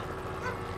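A police dog barks during a narcotics arrest, giving a short, muffled bark or yelp that sounds somewhat distant and sits under steady background noise.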